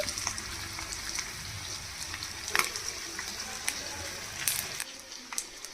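Korameenu fish turned to fry crisp on its second side in hot oil, giving a steady, close, low sizzle with soft pops and crackles throughout.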